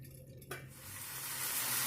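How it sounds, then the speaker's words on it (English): Chicken pieces sizzling in a hot pan with the heat raised, a steady frying hiss that swells after a brief stir and holds loud and close to the end. "you can see the sizzle right now"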